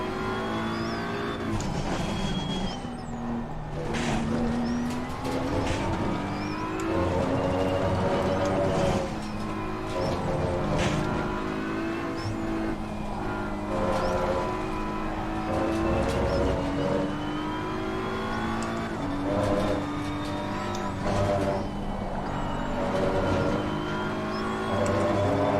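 A McLaren race car in a racing video game, a loud continuous engine whine that rises and falls through gear shifts, heard up close with no talk over it.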